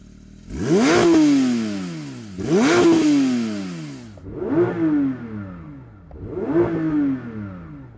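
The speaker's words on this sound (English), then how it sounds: "The old Porsche GT trick of putting it in drive, pulling up both paddles, and then it lets you rev it out while the car's stationary." Porsche 911 GT3 engine revved hard while parked, four sharp blips each rising quickly to a high wail and falling away, the first two loudest and the later pair a bit softer.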